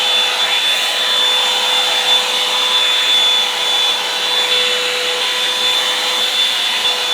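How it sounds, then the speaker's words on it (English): A Revlon hair dryer brush blow-dries hair with a steady, loud motor whir and airflow hiss that stays constant for several seconds, close by, with a faint high tone running through it. "we need to blow dry our hair first using my good old, very dirty Revlon brush"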